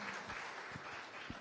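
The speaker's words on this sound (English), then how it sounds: "Big applause to them" Audience applause at a hackathon closing ceremony, a soft, steady patter of many hands clapping at a distance, faint throughout the short stretch.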